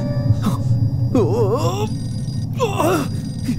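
A telephone rings in a Tamil-dubbed film scene, its warbling ring tones coming in two clear bursts over a low background hum, close and fairly loud.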